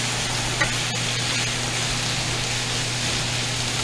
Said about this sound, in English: we're just gonna saute these till they're nice and tender